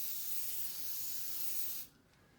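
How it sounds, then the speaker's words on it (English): A can of aerosol smoke sprays a steady, loud hiss at an 11-year-old smoke detector, holding for almost two seconds before cutting off sharply into quiet. "I've got a can of smoke."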